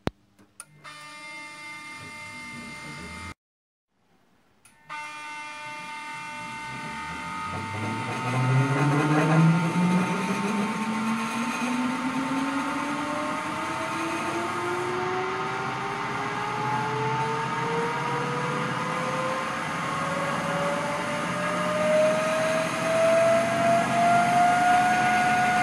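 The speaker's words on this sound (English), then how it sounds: "Referentnu brzinu obrtanja podešavamo na vrijednost 1500 obrtaja u minuti i pokrećemo motor jednosmjerne struje" A DC motor in a generator synchronization setup starts up, a rising electric whine that climbs steadily in pitch as it speeds toward 1500 rpm, then holds a steady hum with faint harmonics, preceded by a brief silent gap.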